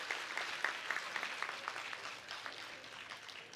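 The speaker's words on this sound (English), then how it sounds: "big round of applause for that" Applause from the audience at a national science camp's valedictory and prize distribution ceremony, steady, fairly faint clapping from a large crowd throughout.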